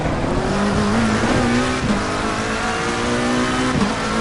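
McLaren 720S GT3 race car engine in the Assetto Corsa Competizione racing game on PS5, revving steadily through gear shifts with brief dips at each change, loud and continuous with faint tire noise.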